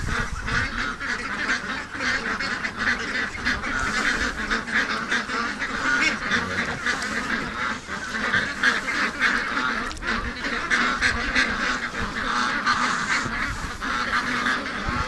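Ducks at a creek honk and quack in a dense, continuous chorus, loud and close throughout, with overlapping calls and no clear pause.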